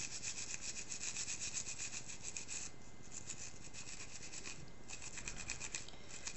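A nail brush scrubs fingernails coated with crushed lemon, making a continuous close, quiet bristly rasping in fast back-and-forth strokes, with a brief lull partway through and no talking.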